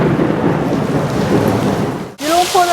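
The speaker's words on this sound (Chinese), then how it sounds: "剛才只是閃電打雷，突然就下成這麼大的雨了" Sudden heavy rain pours in Kuala Lumpur with thunder, a loud dense roar of rain that drops off briefly near the end before a voice begins talking over the downpour.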